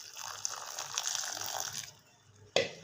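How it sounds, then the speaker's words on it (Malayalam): Half a glass of water is poured into a pressure cooker holding jackfruit, splashing steadily for about two seconds before stopping. A sharp clink from the cooker follows shortly after. "1/2 ഗ്ലാസ് വെള്ളം കൂടെ ഒഴിച്ച് കൊടുക്കാം."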